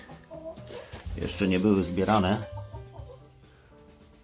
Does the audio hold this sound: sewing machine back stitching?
no